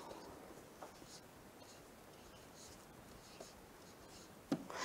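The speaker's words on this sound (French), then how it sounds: "Chaque enfant dessine sur son papier un crayon." A pencil scratches softly and continuously on paper as a child draws in a kindergarten classroom, very quiet throughout, with a brief louder knock near the end.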